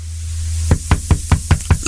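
Six sharp knocks on a door in an even, steady rhythm, loud and close over a low steady hum, coming just as a radio show host asks who is at the door.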